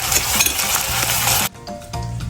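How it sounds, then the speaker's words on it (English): Onions fry in a pan for keema daal with a loud, dense sizzle and scraping stirs, then an abrupt drop to a quieter hiss punctuated by light utensil clinks. "Let it fry, and we wait till it turns brown."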